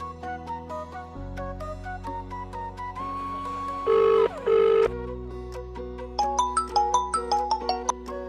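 A telephone is dialed: a run of short keypad tones, a longer held tone pair, then a quick burst of beeps, close and clear with no talking.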